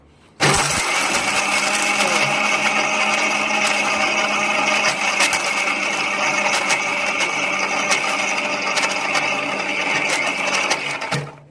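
A kitchen mixer grinder grinds small cut pieces with a loud, steady motor whine. It starts abruptly, holds an even roar for about eleven seconds, then cuts off, and no voice is heard over it.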